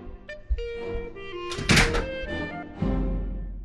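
A door bangs shut in a family home, a solid thunk that stands out among other household noises over a few seconds, with a second heavy knock near the end.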